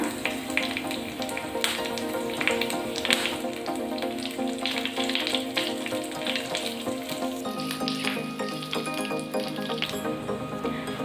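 Curry leaves and fennel seeds splutter in a little hot oil, making a dense, continuous crackle with rapid popping that stays close and even throughout, with no voices.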